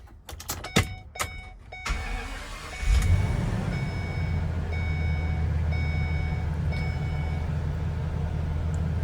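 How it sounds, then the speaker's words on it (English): A 2019 Ford E-350 Super Duty 16-foot box truck with a brand new Ford factory engine cranks over with a brief starter whir, catches, and settles into a loud, steady low idle close by. "Let's go ahead and fire this truck up."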